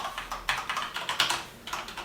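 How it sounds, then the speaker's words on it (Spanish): Fast typing on a Corsair K70 RGB keyboard with Cherry MX Red switches, close and fairly soft, with a quick run of clustered keystrokes and no voice. "No es un teclado que haga mucho ruido, es algo que de hecho hace menos ruido que el Razer"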